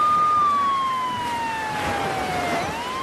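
An ambulance siren wails steadily throughout, a single long descending tone with a slight Doppler-like downward sweep, fairly loud and near, alone without talk.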